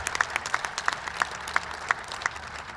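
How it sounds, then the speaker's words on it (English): Audience applause at a university athletics groundbreaking ceremony for a sports complex, a steady outdoor patter of hand claps with sharp individual claps popping out at regular intervals, moderately distant. "So please, a round of applause to Pat Chun and our athletics team."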